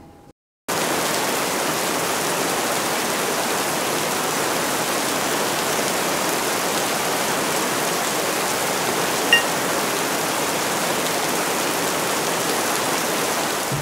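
Steady rain pours down outdoors in a wild fishing area, a dense, even hiss close by that runs without pause after a brief quiet start.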